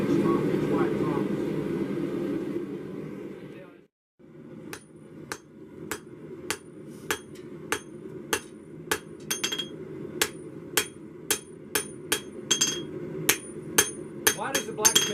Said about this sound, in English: When I was tapping the anvil, I was looking at what I needed to do next.